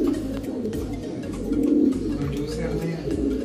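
A cock pigeon gives low, rolling coos close by, continuous through the moment, with a person's voice speaking alongside.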